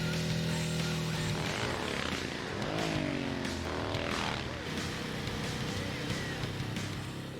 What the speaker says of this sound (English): It has a sort of a racing engine in it compared to our production motorcycles.